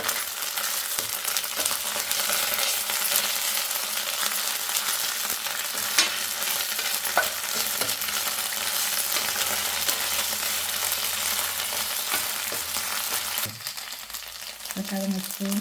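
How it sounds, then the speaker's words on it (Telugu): Ginger garlic paste frying in a pan with browned onions for an okra fry: a dense, continuous sizzle close by, with occasional spoon clinks, and a brief change in texture near the end as the mix is stirred. "అల్లం వెల్లుల్లి పేస్ట్ వేస్తున్నాను ఒక స్పూన్"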